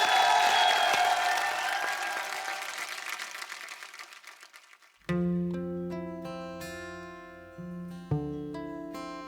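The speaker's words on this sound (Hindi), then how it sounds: "जोरदार तालियां।" Loud applause from a studio audience on a comedy show stage, a dense roar of clapping that gradually fades before music begins.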